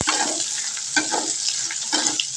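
Shrimp fry with green chilies and onion in a pan, a loud, continuous close-up sizzle with slight surges as the pieces are stirred.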